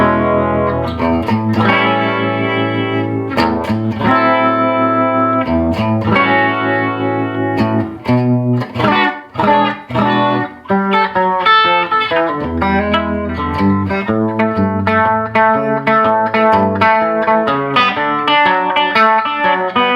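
A vintage Gibson semi-hollow electric guitar with patent sticker pickups plays a loud, sustained passage of strummed chords and picked notes with an upper-midrange bite, alone and without any voices.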